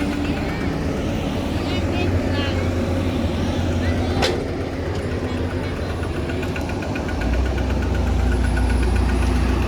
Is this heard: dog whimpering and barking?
no